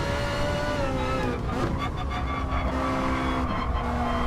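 A Group 4 Ferrari race car in a sim racing game, its engine a loud, steady high-revving drone with shifting pitch and brief gear changes, near and continuous.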